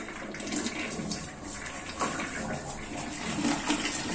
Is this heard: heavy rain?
no